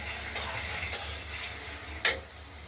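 Spice paste of cumin and ginger stir-fried in a pan for a katla fish curry, a close sizzling hiss with a few scraping stirs and one sharp utensil knock.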